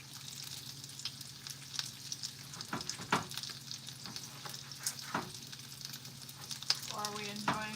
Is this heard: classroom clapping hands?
no